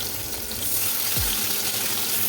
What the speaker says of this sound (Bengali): এখানে মাছের মাথা লেজাগুলো ছাড়লাম